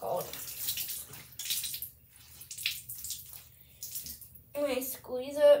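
Running water at a bathroom sink while a face is washed and a wet cloth is squeezed, splashing and trickling in bursts. Brief speech follows near the end.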